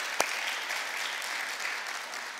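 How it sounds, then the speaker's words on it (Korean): A church congregation claps in steady, sustained applause to welcome first-time visitors at a Sunday service, a dense wash of hands filling the room after one sharp initial clap. "어디 계신지 일어나 주시면 환영의 박수를."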